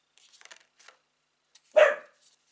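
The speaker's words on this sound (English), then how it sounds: "Sorry, that's my dog." A single short dog bark rings out fairly close, set among quiet rustling and small handling noises, with no talk over it.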